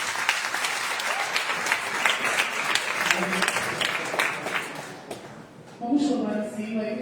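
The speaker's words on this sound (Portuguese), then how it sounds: "Pode aplaudir o Senhor." A church congregation applauding during a service, dense clapping for about five seconds that thins out, followed by a voice speaking over the quieter room.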